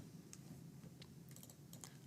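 Numbers being keyed into a calculator, a quick run of light, dry taps close by over a low steady background hum, with no talking.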